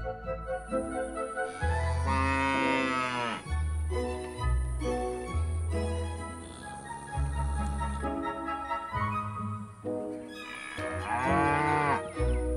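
Cows on a Dutch farm moo repeatedly, long low bellows overlapping one another, some near and loud, others farther off, under a steady high-pitched whine.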